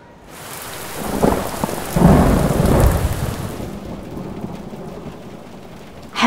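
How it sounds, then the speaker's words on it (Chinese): Heavy rain pours steadily as rolling thunder swells for a few seconds, then fades back to the dense hiss of downpour, ending with a sharp crack. "等雨小点再走吧。 预报可说这个雨要下到晚上呢。"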